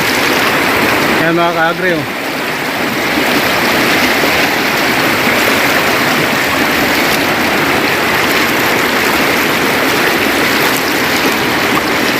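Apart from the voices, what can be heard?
flowing water of the Umanod River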